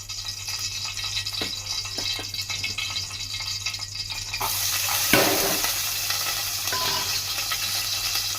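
Chopped onion drops into hot oil in a pan for a village-style stuffed brinjal and egg curry, giving a steady sizzle that swells louder midway, with occasional stirring scrapes and a faint background hum.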